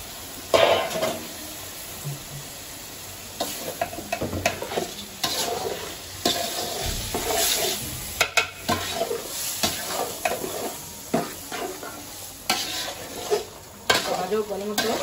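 Rice and lentils stir-fried in a pan during home puja cooking, a spoon scraping and stirring in uneven bursts over a steady low sizzle, close and fairly loud, with no voices.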